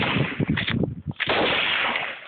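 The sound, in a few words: AR-15 rifle gunshots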